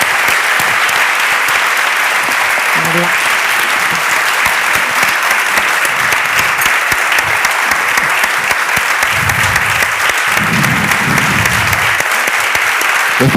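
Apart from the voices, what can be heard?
audience applause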